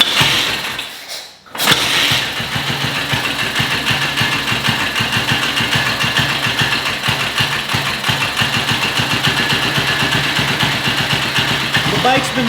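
A 1962 BSA Goldstar motorcycle, warmed up after a rebuild, idles steadily with an even, close thumping beat after a brief cut near the start, with a voice talking over it.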